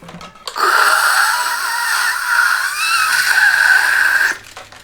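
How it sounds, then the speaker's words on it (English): An F-16 fighter jet roars loudly and steadily for about four seconds, with a strong whining tone, then cuts off abruptly. "As you recall, an F-16 sounds like this."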